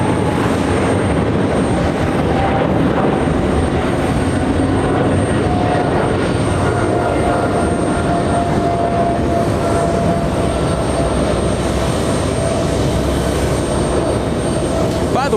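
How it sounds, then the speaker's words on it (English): A KLM Boeing 777-300ER in SkyTeam livery bound for Amsterdam runs its jet engines at JFK, a loud, sustained roar with shifting whining tones that fill the long stretch, with some faint voices mixed underneath. "KLM in the Sky Team livery. Flying to Amsterdam, Sky Team livery. A 777-300ER."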